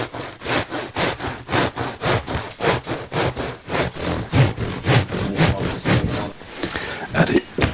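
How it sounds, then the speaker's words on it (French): Knife blade drawn against a ruler through Isonat Plus 55 wood fibre insulation, giving a steady run of rhythmic, rasping sawing strokes, loud and close, with no talk. "poser la règle et appuyer la lame du couteau contre la règle"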